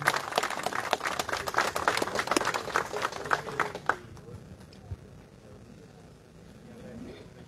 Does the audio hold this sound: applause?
yes